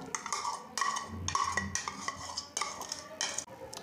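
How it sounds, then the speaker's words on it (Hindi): Cookie dough mixed with sugar is kneaded and worked in a bowl, making repeated soft scraping and clinking sounds in an uneven rhythm. It is close and moderately loud, and nobody talks. "इसको अच्छी तरह से गूंद लेंगे।"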